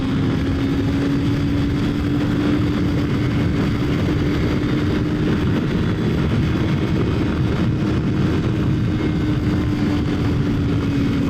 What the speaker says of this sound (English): Might feel like I'm flogging the engine a little bit, keeping it up near those highest revs